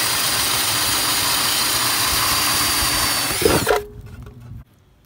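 A power drill bores a hole through the roof of a Jayco 212QBW travel trailer, whining loud and steady up close for several seconds before spinning down and stopping, leaving near silence.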